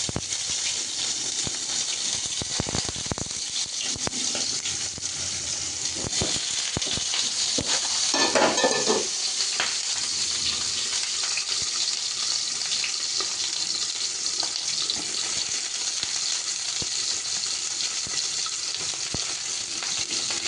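Pointed gourd (potol) sizzles steadily in a hot frying pan while being stirred, a continuous close hiss with occasional scraping clatters from the stirring and a brief louder burst midway.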